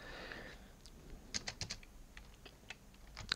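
CSS code is typed on a computer keyboard, first a few scattered key taps and then a quick cluster of sharp clicks, quiet and close with no talking.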